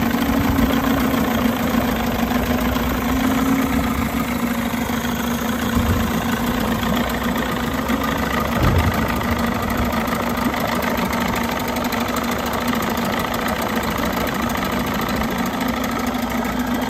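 An electric-start outboard motor, mounted on a skiff under rebuild, idles continuously with a steady low hum and a pronounced droning tone. The vibration is loud and near, and no one speaks.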